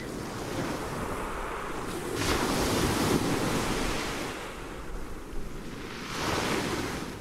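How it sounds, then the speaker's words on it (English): Ocean waves break and wash onshore in a steady, continuous surge, with swells rising and falling every few seconds and a wind-blown rush over the shoreline, close and fairly loud, with no voices. "Imagine yourself standing in front of the ocean."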